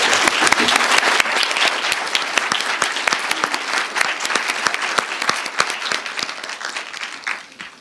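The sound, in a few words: audience applause for a panel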